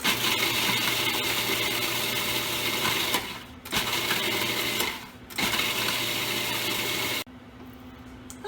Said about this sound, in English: I have finished grinding our graham crackers in my food processor